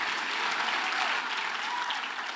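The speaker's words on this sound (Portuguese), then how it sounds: "Aplauda ao Senhor, aplauda ao Senhor, glorifique a Ele por essa verdade espiritual." A church congregation claps together in praise during a sermon, a dense, sustained wash of applause at moderate distance that holds steady and fades slightly toward the end, with no speech over it.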